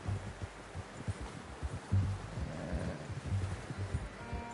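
Horse hooves in Red Dead Redemption II, a steady, soft clip-clop of a horse walking along, fairly quiet and even in rhythm, with a faint rustling bed behind it and no talking.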